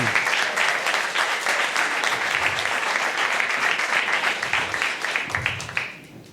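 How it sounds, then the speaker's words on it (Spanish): An audience applauding at a live talk event: sustained, fairly loud clapping that holds steady for several seconds, then drops off abruptly near the end. "Bueno, aplausos."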